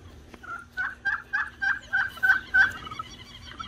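A turkey gobbles during mating, a rapid series of about eight rhythmic, warbling calls that are clear and fairly close against a quiet outdoor background with low hum.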